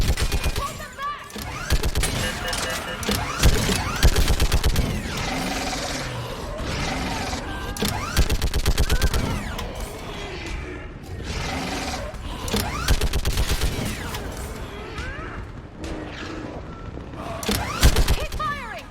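Sustained heavy gunfire in the video game Mass Effect 3, dense rapid automatic bursts and booming impacts running continuously and loudly, with battle chaos throughout and shouted voices mixed in.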